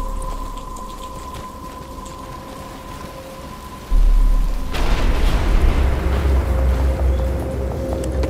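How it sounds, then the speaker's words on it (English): In the video game Batman: Return to Arkham, steady rain falls, then a loud thunderclap rolls in and the downpour grows heavier and louder under a low rumble. "But it's starting to rain."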